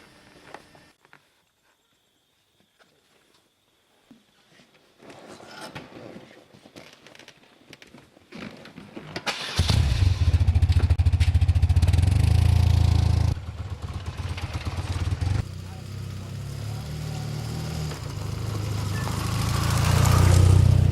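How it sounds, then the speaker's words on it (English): A 1000cc BMW R100 GS motorcycle comes to life after quiet shuffling and clatter, then runs steadily with a loud, rough, close engine note that shifts in tone and swells toward the end. "Here's the R100 GS, which is a 1000cc model."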